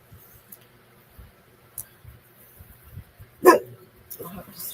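A single dog barks once at mid distance amid the background chatter of people talking, with a short loud burst standing out before the voices resume.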